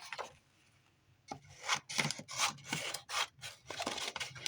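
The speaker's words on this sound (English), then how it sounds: "So yeah, I'm gonna cut that down." Scissors cutting down a gathering of paper pages, a close series of rasping snips in quick bursts after a quiet start.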